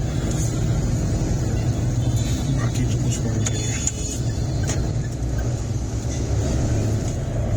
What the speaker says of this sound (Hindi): ट्रक का ट्रैफिक है, रात सिटी का ट्रैफिक है